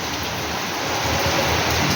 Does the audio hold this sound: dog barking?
no